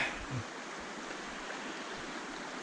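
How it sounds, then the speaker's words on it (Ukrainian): A steady, even rush of flowing water from a Carpathian mountain river in winter, heard close by, continuous with no voices. "Гірська річка."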